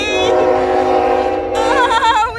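A CSX freight train sounds its horn in a loud, sustained multi-tone blast close by over rolling train noise, with a wavering tone entering partway through.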